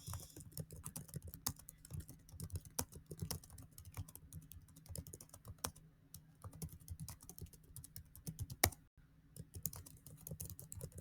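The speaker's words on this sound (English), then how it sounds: "I'm going to type this really quick." Rapid, continuous typing on a computer keyboard, with dense quiet key clicks in an uneven rhythm, a brief pause, and occasional louder keystrokes, close and soft.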